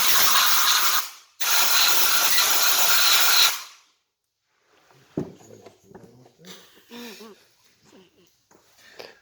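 Two long, loud bursts of compressed air blowing out a bike part, a broad steady hiss with a short gap between them, followed by quieter clicks and handling noises.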